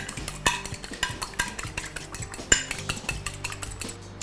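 Eggs are beaten in a Pyrex glass bowl, giving a quick, steady run of close clinks and taps as the whisk strikes the glass in a regular rhythm, with no talking.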